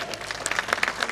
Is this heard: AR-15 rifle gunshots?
no